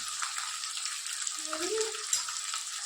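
Rice with fried rice masala and garlic and red chili paste sizzles steadily in a pan as it is stirred and mixed, a continuous close frying hiss with faint scraping under it.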